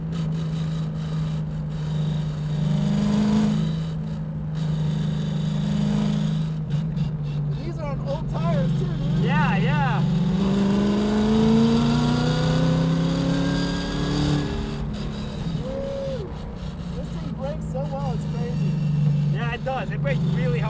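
Ford Mustang S550 RTR track car lapping Apex Motor Club, heard onboard as a loud continuous engine drone that rises and falls with repeated revving and shifting, speech mixed in at times.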